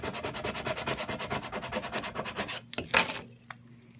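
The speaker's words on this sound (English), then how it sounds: "you're going to take your transfer tape and burnish it on here" Transfer tape being burnished onto adhesive vinyl with quick rhythmic back-and-forth rubbing strokes, close up, ending with a couple of scrapes and then near silence.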